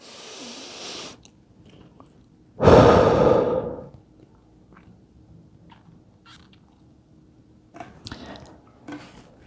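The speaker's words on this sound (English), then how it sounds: "practice your breathing. In your nose, exaggerate it out." A person on a bench doing hip stretches breathes in through the nose and then pushes out one loud, exaggerated exhale, followed by quieter breaths and faint rustling.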